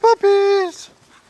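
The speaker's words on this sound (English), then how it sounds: "Puppy, puppy, puppies!" A newborn puppy from a litter of nine in a barn stall lets out a short, close, high-pitched whimpering yelp, a quick squeak followed by a longer drawn-out whine that fades into quiet.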